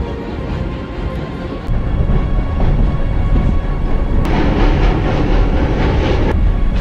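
A train on a steep Black Hills railroad, South Dakota, rumbles along loudly in a continuous rolling roar with rattling wheel clatter, growing heavier partway through, with sharp clicks now and then and no talk.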